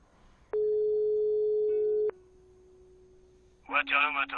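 In the video game Broken Sword 5, a telephone line gives a long steady electronic tone lasting about a second and a half, then a lower faint hum, before a voice begins speaking.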